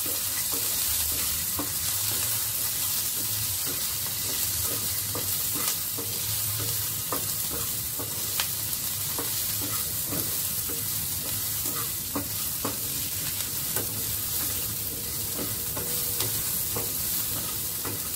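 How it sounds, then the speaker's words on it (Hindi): Two roughly chopped medium onions and two or three whole red chillies sizzle steadily in a pan while being stirred, giving loud, continuous frying with frequent spoon scrapes and no talking. "अब मैं इसमें डाल रही हूँ 2 मीडियम प्याज जो कि मैंने रफली चॉप कर लिए हैं"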